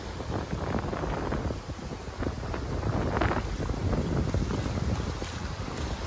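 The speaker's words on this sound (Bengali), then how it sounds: "আর ঢেউ একটা দেখাচ্ছি তোমাদের, অনেক বড় বড় ঢেউ" Large sea waves at Shankarpur beach, a steady rushing roar of surf mixed with strong wind buffeting the microphone, loud and continuous with surges rising and falling.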